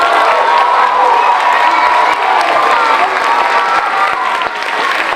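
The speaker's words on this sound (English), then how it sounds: "Can we give a round of applause to our" An audience at a school Veterans Day assembly applauds and cheers in a loud, dense, continuous roar of clapping, with children shouting and whooping throughout.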